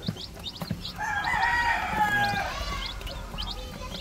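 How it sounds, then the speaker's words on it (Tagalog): Two-day-old Rhode Island chicks give rapid, high, repeated peeps close by, with a longer, louder drawn-out call rising through the middle. "2 days old Rhode Island chicks."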